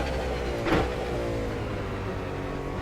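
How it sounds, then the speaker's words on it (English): A V8 Supercar in the iRacing sim at Oulton Park brakes hard and downshifts to second gear, a steady buzzing engine drone with one brief blip partway through, close and continuous. "Heavy braking here for 2nd."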